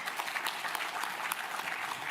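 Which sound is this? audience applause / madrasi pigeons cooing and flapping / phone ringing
audience applause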